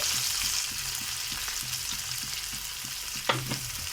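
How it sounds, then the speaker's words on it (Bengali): Cabbage fries in oil with green chillies and tomato while a utensil stirs it, steady sizzling hiss under rhythmic scraping strokes and a sharper clatter near the end, no talking. "এখানে 2টো কাঁচা লঙ্কা আর টমেটো কিছু দিয়ে দিচ্ছি, দিয়ে একটু নাড়িচাড়ি করে নিতে হবে"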